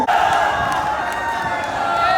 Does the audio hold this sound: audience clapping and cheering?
yes